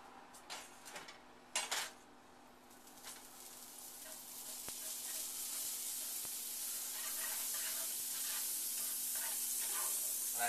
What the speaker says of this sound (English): You want to use a little bit of butter or margarine on the bottom of the pan